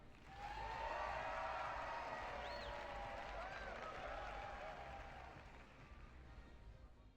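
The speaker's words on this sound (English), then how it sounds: "Let's hear a big round of applause for the winner of today's special award, Akari Natsukawa" A crowd applauds a prize winner at an award ceremony in the video game Yakuza 5, with a sustained wash of clapping and cheering running for several seconds before slowly fading, along with faint tonal game sounds.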